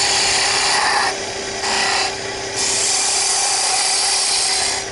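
Wood lathe turning a wooden cocktail muddler while a tool rounds over its rough edge, a steady high whir and scraping hiss that dips briefly as the cut lightens, close and continuous with no talking.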